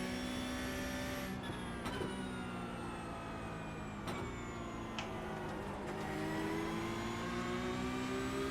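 Porsche Cup race car engine in iRacing at Imola, a continuous high revving whine rising and falling through quick gear changes, with sharp shift cracks and an opponent's engine blending in, up close and loud.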